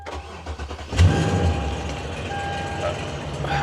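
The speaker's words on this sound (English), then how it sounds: "I'll put the key in it. We'll see if it wants to run." A tornado-damaged Ford Maverick truck's engine cranks with the key and catches about a second in, then runs rough and steady at close range.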